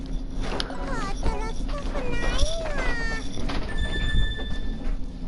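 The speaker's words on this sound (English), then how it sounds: "that cat actually sounds different depending on what language" A cat in Disgaea 5 gives a few short rising and falling meows, close and clear, over game music and background sounds.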